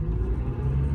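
A 1992 Acura Integra LS sedan with a five-speed manual, at 116,562 miles, gives a steady low engine rumble while driving, close and continuous, with no one talking.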